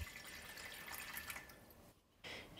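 Warm water pours onto 5 grams of fresh yeast as 370 milliliters go in, a quiet splashing trickle that briefly stops and then resumes, with no speech.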